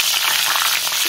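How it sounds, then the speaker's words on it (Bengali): Pieces of pointed gourd fry in hot oil with a loud, continuous, close sizzle that holds steady throughout. "এই হচ্ছে পটল ভাজা, পটল ছেড়ে দিলাম"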